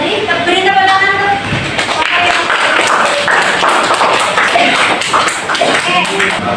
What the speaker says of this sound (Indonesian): Beri tepuk tangan tuh.